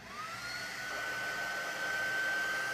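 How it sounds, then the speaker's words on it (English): A small hair dryer blows continuously at close range while drying paint on a wooden slat sign, a steady airy whoosh with a thin rising whine that levels into an even tone. "And you see the little dryer."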